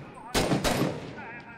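A video game police shootout as two sharp, loud gunshots crack in quick succession, followed by fading echo and faint background noise.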